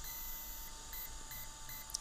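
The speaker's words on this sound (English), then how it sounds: "So you hear the long beep and 3 short beeps." Electronic speed controller beeps of an HPI Bullet Flux RC car during programming, a long beep then short evenly spaced tones over a steady high whine with a faint hum beneath.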